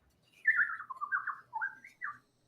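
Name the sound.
birds chirping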